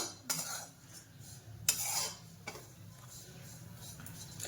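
Grated dry coconut stirred steadily in a hot pan for Maharashtrian kala masala, giving sparse scraping and tapping of a spoon against the pan, a couple of sharper clinks, close and fairly quiet over a low background hum.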